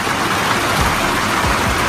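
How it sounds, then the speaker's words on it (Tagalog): Heavy rain pours down in a steady, dense roar of hiss and patter, loud and unbroken with no voices, during a brownout in the Philippines. "Lakas ng ulan."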